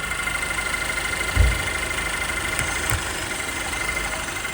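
Vehicle engine idling steadily with a fresh vacuum air leak created on the intake system, a constant low rumble with a couple of faint thumps, no talking.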